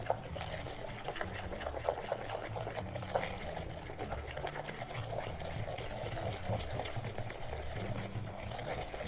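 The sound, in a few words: whisking cake batter with sugar and butter in bowl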